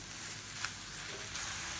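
Coriander leaves sauté in a pan for kothamalli thokku, making a soft, steady sizzle that holds evenly throughout with no voices.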